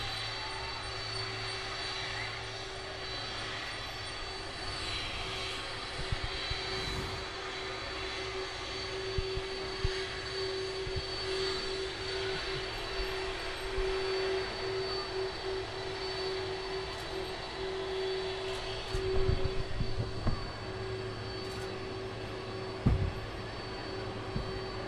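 A Boeing 747 jet departing Manchester Airport, its engines giving a sustained distant roar and whine that holds steady for the whole stretch, with faint handling noises nearby and no talk.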